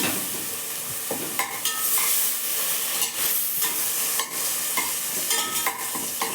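Mint and coriander leaves being stirred and sautéed in a pan for homemade biryani, with a steady close sizzle and repeated scraping stir strokes throughout, no voices.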